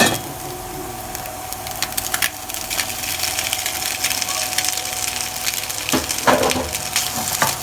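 Pancit canton noodles fry in a pan with garlic, giving a steady sizzle and light crackle with a few louder stirring scrapes near the end.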